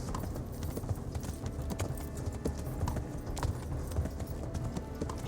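Horse hooves clopping in the video game Kingdom Come: Deliverance, a steady rapid rhythm of hoofbeats running on without a break, fairly close and with no voices over it.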